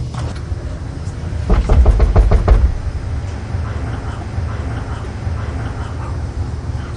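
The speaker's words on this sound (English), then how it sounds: "It's kind of wimpy knock." Knocking on a door at a spooky, supposedly haunted house: a short run of about five or six fairly soft, quick raps in the middle, set against a steady low background rumble.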